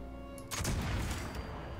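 A gunshot in the video game Fallout 76, a sudden loud broadband blast at mid-clip with a lingering rumbling tail and no talk.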